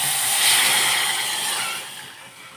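Tamarind, date and jaggery water is poured into hot oil tempered with carom seeds for a Rajasthani kachori chutney, giving a loud, steady broadband hiss that eases off toward the end, with no talking.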